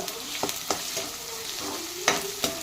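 Ground peanut and green chilli masala paste stir-fried in a pan for a dry brinjal-potato dish, with a low sizzle broken by sharp, irregular spoon scrapes and taps, close up and with no one talking.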